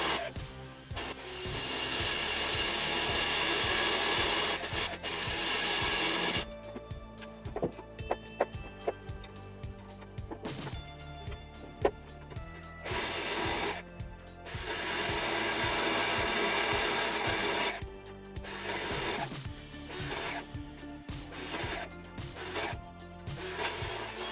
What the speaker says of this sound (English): The drill tries to pass exactly in the center of the nut.